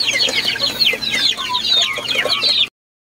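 Pet chickens cluck in a close, busy chorus of short overlapping calls, continuous for a few seconds before stopping abruptly.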